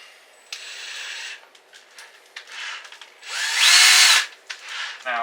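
A power drill fitted with a hole saw bites through exterior house siding while a Mr. Cool unit is being installed, grinding in short bursts and then a long, loud stretch of cutting near the end.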